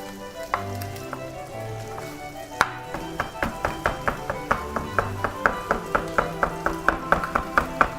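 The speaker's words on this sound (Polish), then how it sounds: "Dodaję również wędzonki, tak zwanej boczku, który sobie tutaj szybko skroimy." Smoked bacon is chopped quickly with a knife: after a few seconds, rapid, evenly spaced chops ring out close by, over a faint sizzle of frying in the background.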